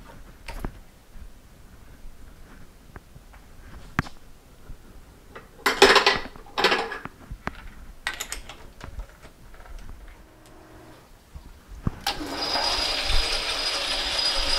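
A metal lathe cutting threads with a single-sided threading tool fed by the compound, with clicking and ratcheting mechanical sounds, short bursts of cutting noise, and a louder steady hiss of the machine running near the end.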